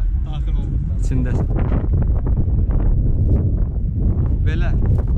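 Strong gusts buffet a microphone outdoors at a BMW car festival in Azerbaijan, a loud, continuous low rumble and flutter with someone talking over it.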